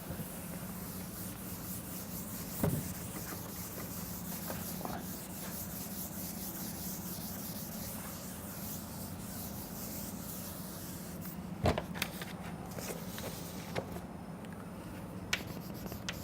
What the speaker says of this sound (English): I am going to rub this particular